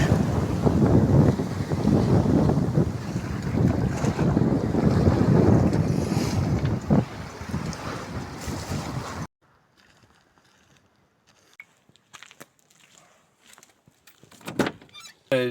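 Steady roar of wind and sea swell buffeting a boat just out of port on the Brittany coast, loud and continuous, then dropping abruptly to near quiet with faint scattered knocks and clicks.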